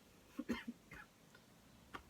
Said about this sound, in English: It's not a chesty cough, it's just a very annoying cough right now.